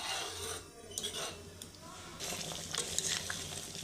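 Tomato masala curry simmers and bubbles in a pan with a steady sizzle, and a spoon stirs and scrapes it in brief bursts, close to the microphone with no talking.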